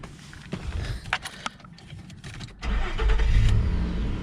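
A 2006 Nissan Xterra with about 210,000 miles cranks and catches, a few clicks and rattles first, then the engine settles into a steady, fairly loud idle up close.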